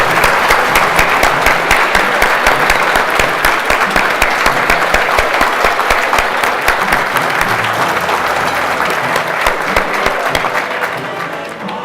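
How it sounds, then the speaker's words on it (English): Sustained audience applause at an HBCU engineering deans' breakfast, a dense steady clapping from a large room that continues for the whole stretch and thins slightly at the end. "let's give all of the deans now another round of applause"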